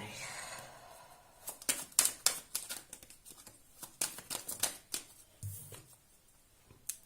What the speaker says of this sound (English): let me just give a little shuffle here to the tarot